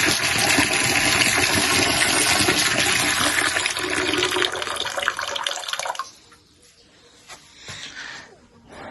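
Water from a newly fitted tank gushes through household pipes and taps. The rushing stays loud and steady for about six seconds, then drops suddenly to faint trickles and drips.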